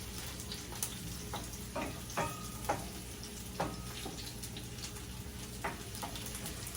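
Home-grown onions frying in a pan, a faint steady sizzle with occasional light ticks and stirring scrapes, heard alone without talk.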